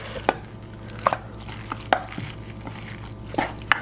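Jerky meat is tossed with spices, salt and Worcestershire sauce in a bowl, giving intermittent sharp clicks and taps of a utensil against the container over a low steady background.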